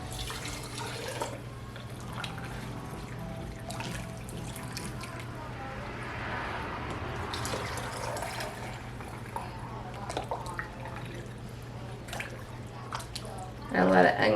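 Strained chicken bone broth pours and trickles into canning jars, giving a continuous soft liquid splashing and dribbling over a low steady hum, with a brief louder clatter at the very end.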